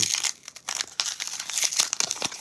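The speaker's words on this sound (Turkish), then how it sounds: "Şimdi yedinci destemizi açıyorum arkadaşlar." A McDonald's Pokémon card pack being torn open, with crisp crinkling and tearing of thin foil wrapper in quick irregular bursts, close and fairly quiet.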